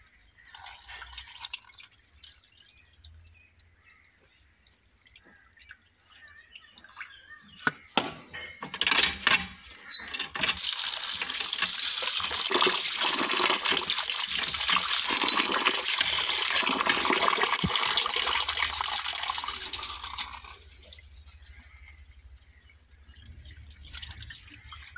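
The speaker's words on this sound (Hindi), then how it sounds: "चावलों को मैं एक दो पानी धो लूँगी।" Broken kheer rice is rinsed in a home kitchen: scattered drips and clinks of a metal pot, then a steady rush of running tap water for about ten seconds, then more handling sounds, with no talking.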